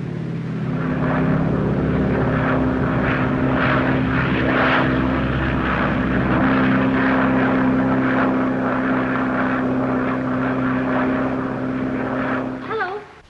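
Propeller airplane engine from a 1937 film, a steady loud drone with strong low harmonic hum running throughout and fading at the end, some faint voices mixed in.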